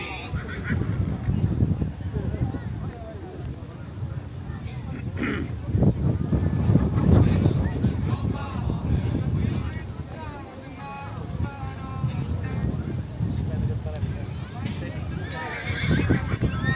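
Horses whinny and neigh in their home paddock beside an arena, calls rising a few times over steady outdoor crowd noise while a person speaks through much of it.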